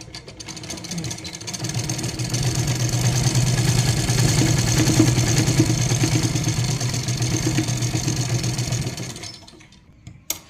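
An electric sewing machine runs in one long continuous stitching burst for nearly nine seconds, a rapid, even mechanical hum and rattle close by while sewing a Patiala salwar, then stops, followed by a few small clicks.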